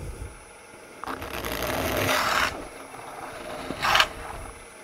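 A drill bores a half-inch hole up through the middle of a turned wooden funnel on a lathe, a steady mid-level grinding whir that swells for a couple of seconds, fades, then briefly surges again near the end.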